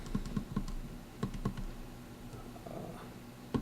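Buttons on an Atari 5200 controller keypad pressed in quick plastic clicks, a burst of four then a few more scattered presses, close by over a low background hum.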